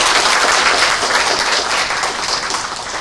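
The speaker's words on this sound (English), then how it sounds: "Let's give her another round of applause." Sustained audience applause fills the room at a business development summit in Flushing, New York, a dense, steady wash of many hands clapping, loud and continuous for the whole stretch.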